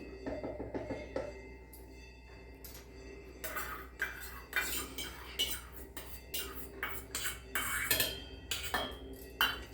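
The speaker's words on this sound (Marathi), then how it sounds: "आता मी हे वाटीभर दही ओतून घेतली पहिल्यांदा" A bowlful of curd goes into a dish while spoons and steel bowls clink and scrape, a run of close, sharp knocks and taps over a quiet room.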